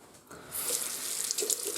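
Running water from a tap rinsing a stainless steel safety razor, a soft hiss that swells into a bright, splashing stream, close and steady for under two seconds.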